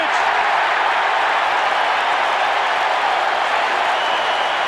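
A football stadium crowd roars steadily and loudly at a Bears versus 49ers game after a long pass play, a dense sustained wash of cheering and applause without pause.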